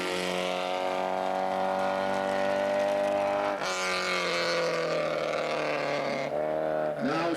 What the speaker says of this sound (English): Now just leaving the start control.